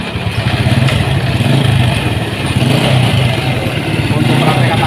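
A Honda Supra X motorcycle engine runs after a chain replacement, idling and revving with a steady close mechanical throb, loud, while someone talks over it.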